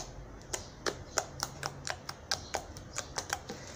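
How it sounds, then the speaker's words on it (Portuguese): Homemade slime stretched on a table gives a string of sharp, crisp clicks and pops, about a dozen in an irregular rhythm, close and fairly quiet with no talking. "Faz bastante clique."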